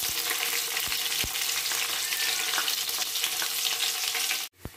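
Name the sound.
cumin and two chillies frying in oil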